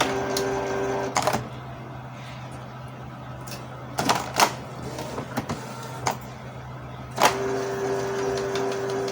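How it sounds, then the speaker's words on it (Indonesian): Close up, an office inkjet printer works through a full A4 page of typed text, its low mechanical hum steady under a run of sharp clicks and knocks as the carriage moves and the paper advances. "Buat print full A4 ya, coba full ketikan ya"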